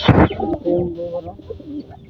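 Pet pigeons coo in a few soft, low throaty phrases close by, following a brief loud burst at the start.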